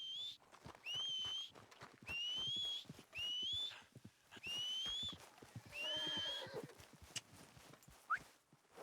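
A horse in the Red Dead Redemption 2 video game neighs and whinnies in repeated high, wavering bursts, about five in a row, over rhythmic hoof clip-clops and game ambience.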